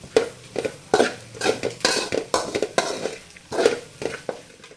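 Basmati rice is stirred into carrot masala in a pan, with repeated scraping and clinking strokes of a spoon against the metal in an uneven rhythm, close and fairly clear.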